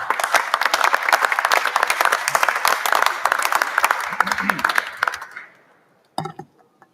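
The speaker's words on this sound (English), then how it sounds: "So we applaud the work that they do." Dense audience applause at a WBC boxing ratings session convention in Acapulco, loud and steady for about five seconds, then quickly fading to silence before a brief final burst of sound.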